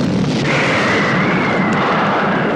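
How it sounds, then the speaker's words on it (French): Spaceship explosion from the 1979 film Alien: a sustained, dense roaring blast with a rising rushing tone, loud and continuous for the whole stretch, with no voices. "qu'on n'a pas le droit à une belle explosion"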